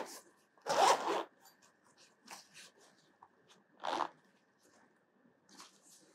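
A zipper on a black pouch holding a uric acid meter kit is pulled open in two quick bursts, close and fairly loud, with faint rustling between them.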